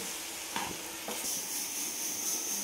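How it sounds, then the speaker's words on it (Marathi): Vegetable filling for potato vada sautés in a pan, giving a steady close sizzle broken by a few scraping stirs of the spoon, with no voices. "आणि 1 मिनिटभर आपल्याला हे परतून घ्यायची आहे भाजी"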